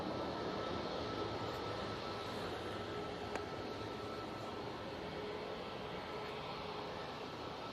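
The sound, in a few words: airliner departing Manchester Airport for Helsinki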